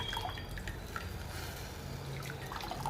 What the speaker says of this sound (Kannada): ಸ್ವಲ್ಪ ಹುಣಸೆಹಣ್ಣು ಕಲಸಿ ಇಟ್ಕೊಂಡಿದ್ದೀನಿ. ಅದಕ್ಕೆ ಎಷ್ಟು ಹುಳಿ ಬೇಕೋ ಅಷ್ಟು ಹುಳಿ ಹಾಕೋಣ